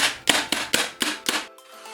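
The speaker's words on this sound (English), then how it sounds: "To attach the carpet to the palette, I used a staple gun" Five sharp, evenly spaced staple-gun shots driving staples through carpet into a wooden pallet, each a loud close snap with a short ringing decay, followed by a faint tail.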